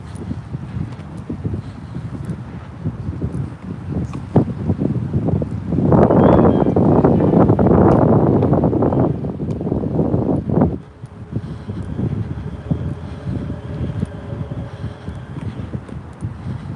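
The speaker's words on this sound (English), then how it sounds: "the wind's a little harsher than expected" Strong wind batters an outdoor microphone at a waterfront at night, rumbling and gusting continuously. It peaks in a loud, sustained blast midway, then eases back to a lower roar.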